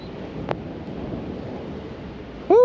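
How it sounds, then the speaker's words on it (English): Wind gusting across a microphone while hang gliding in a west wind, a steady broadband rush with a brief gust, then a loud whistling tone swelling at the end. "so that's like a west wind, I think"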